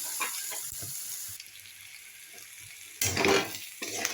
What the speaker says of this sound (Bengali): দেখুন পটলটা আলুটা দেওয়ার পরে ভাজা হয়ে গেছে